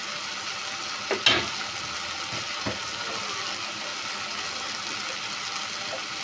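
Spices frying in oil in a pan for prawn malai curry: a steady, even hiss of sizzling oil with a couple of faint clinks from a utensil near the start.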